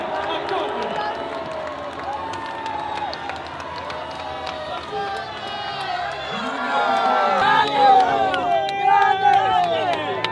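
Huge crowds cheer and shout at the Giro d'Italia 2022 Stage 15 finish in Cogne, a roaring wash of voices that swells louder toward the end while a commentator talks over it.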